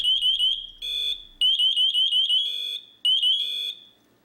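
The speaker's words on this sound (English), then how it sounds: "Check the manual alarm button." Manual alarm of an MSA FireHawk M7 SCBA sounding as a loud, piercing electronic tone in rapid repeating chirp bursts alternating with steady held beeps, cycling three times with brief gaps and no talk.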